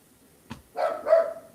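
A female dog barks twice in quick succession, fairly close and loud, just after a brief soft thump.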